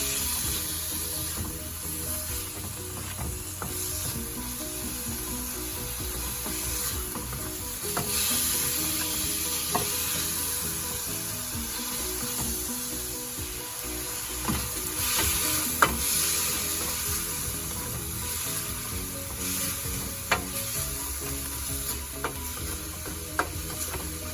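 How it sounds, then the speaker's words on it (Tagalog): Tiny pork slices sizzle and fry steadily in a pan over a full stretch, with occasional scraping and clicking as the meat is stirred, all without voices. "And then add our tiny pork slices, or you can use minced pork. Sauté"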